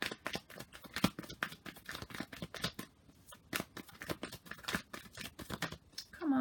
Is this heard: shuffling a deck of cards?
yes